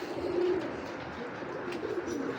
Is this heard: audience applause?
no